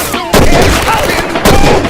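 Loud, close bursts of gunfire from a video game, two heavy blasts roughly a second apart with sustained noisy crackle between them.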